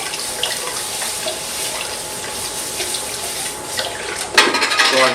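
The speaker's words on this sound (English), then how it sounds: "I want to take my watering can" Water from a watering can pours and sizzles onto hot forged steel being upset at a blacksmith's forge, a steady hiss building to a louder, crackling burst near the end.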